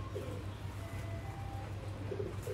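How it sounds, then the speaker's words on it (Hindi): Sialkoti Sheikh and Ferozpuri pigeons coo in low, repeated throaty pulses, a steady murmuring rhythm close by over faint background noise with no talking. "सियालकोटी शेखां वाले कबूतर फिरोजपुरी कबूतर दोस्तों भरावां नूं इस वीडियो च दिखाए गए ने"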